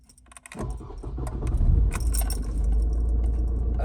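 An Opel Meriva is started, with keys jangling first, then a short cranking burst and the engine catching into a low, steady idle rumble close by.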